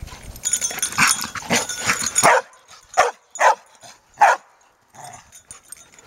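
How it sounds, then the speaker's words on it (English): A dog barks and whines close by in a quick string of yips and barks, then several separate sharp barks spaced about half a second apart, loud and with no talking. "You're being a silly dog."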